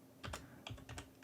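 Short burst of close, quiet keystrokes on a computer keyboard while entering a command at a command prompt, several distinct taps in an irregular rhythm.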